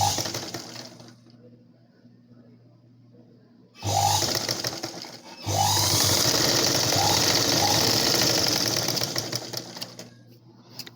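A sewing machine stitches blouse fabric at the shoulder, running in a short burst and then a longer continuous whirring run, close and fairly loud against a quiet room.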